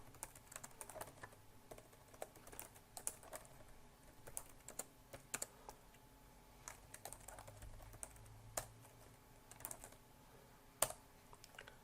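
Computer keyboard clattering as Java code is typed, irregular bursts of close, crisp key clicks with short pauses between runs, no voices.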